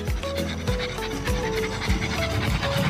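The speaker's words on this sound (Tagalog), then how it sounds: "Tanggol, hingal ka nga Tanggol." A pet dog pants in steady quick breaths close by outdoors, with faint background noise and no talking.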